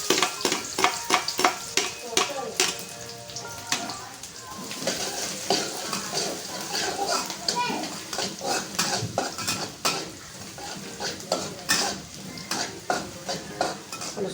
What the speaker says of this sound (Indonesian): Pertama bawang putihnya dulu kita tumis ya.